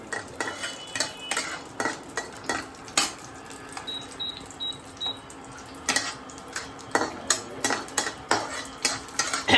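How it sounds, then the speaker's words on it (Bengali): Cashew nuts frying in ghee in a pan, stirred with a metal utensil: repeated scraping clinks and knocks of spoon against the pot over a low, steady sizzle, close by. "ঘিয়ের মধ্যে কাজু বাদামটা ভেজে নেব।"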